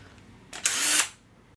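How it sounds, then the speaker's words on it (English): A power drill bores holes for new screws into a wooden tilt-top tea table, giving one short, loud burst of whirring lasting under half a second, with quiet room tone before and after. "I drill some more holes for the new screws"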